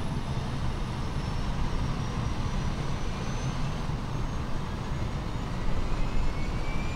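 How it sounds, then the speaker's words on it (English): Auxiliary power unit of an Aerosoft CRJ-700 regional jet spooling up in Microsoft Flight Simulator 2020, a steady loud broadband roar and whine heard from the rear of the aircraft, holding level throughout. "So the APU is firing up"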